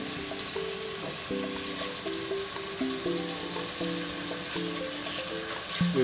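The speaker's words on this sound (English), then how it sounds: "Get that sizzling." A steady sizzle of bacon frying in a pan crackles, with faint clinks and scraping from stirring in the background.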